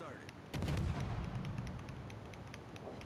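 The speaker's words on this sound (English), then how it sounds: "Oh, he just fired his guns." Naval guns fire from a warship in a naval combat video game: one heavy booming volley, then rumbling reverberation and scattered faint reports.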